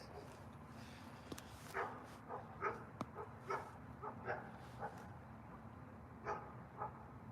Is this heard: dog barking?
yes